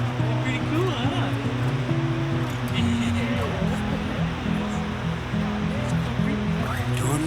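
Water of Clear Creek in Colorado flows steadily in a fall setting, a continuous broadband rush that stays loud throughout, with a voice talking over it.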